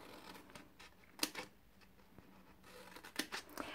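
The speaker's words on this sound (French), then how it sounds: "On va découper de part et d'autre du pli que nous avons marqué." Scissors cutting paper on either side of a marked fold while making a twist-closure box, quiet snips and rustles with a couple of sharper cuts, faint and close.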